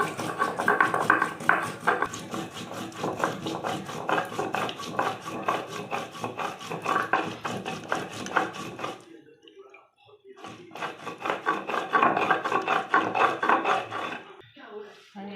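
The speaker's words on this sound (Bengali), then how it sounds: "এবার আমি গরম মশলা বেটে নিচ্ছি, আছে গোলমরিচ, এলাচ, লবঙ্গ, দারচিনি নিয়ে নিয়েছি" Garam masala of black pepper, cardamom, clove and cinnamon being ground in a kitchen, a steady raspy rubbing and grinding that runs for about nine seconds, pauses briefly, then resumes for a few more seconds.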